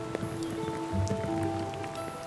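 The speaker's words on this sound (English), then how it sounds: "Unfortunately, you might have noticed it's raining." Rain falling outdoors on an open-air landscape painting site, a steady light patter of drops throughout with a faint background hum.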